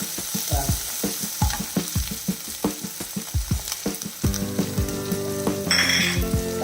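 Onions sizzle in hot oil with repeated stirring scrapes and clatters, followed by a steady frying hiss with a faint tonal hum near the end.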